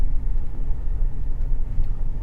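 A tractor engine at a remote mountain cabin makes a steady, low rumbling drone, loud and close throughout, with no one talking.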